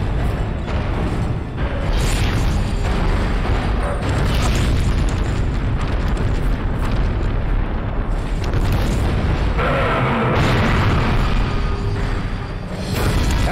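Cannon in a retro-style video game firing heavy, booming blasts that merge into a loud, continuous roar of explosions with brief dips between bursts.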